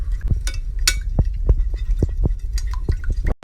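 A utensil stirs an egg into a milk mixture in a bowl, making quick, irregular clinks and taps against the bowl, close and fairly loud, with no talking.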